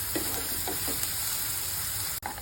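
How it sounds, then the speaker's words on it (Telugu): Onions frying in hot oil for a chicken curry, a steady close sizzle and hiss that runs unbroken, with a few soft stirring knocks and one sharp brief clack near the end. "చూడండి, ఆనియన్స్ బాగా వేగిపోయాయి కదా."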